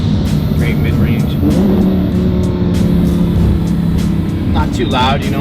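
Lamborghini Huracan with a Stage 2 twin-turbo kit revving under partial throttle, a steady, moderate engine drone that swells slightly and runs continuously beneath nearby conversation.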